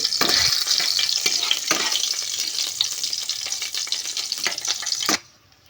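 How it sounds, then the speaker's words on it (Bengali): Cardamom and dried red chilies fry and are stirred in hot oil, giving a steady loud sizzle broken by sharp scraping stirs, ending abruptly near the close. "এলাচ এই কটা জিনিস প্রথমে তেলের ওপর কিন্তু দিয়ে দিতে হবে এবং তার সঙ্গে শুকনো লঙ্কা দিয়ে ভালো করে একটু নেড়ে নিতে হবে"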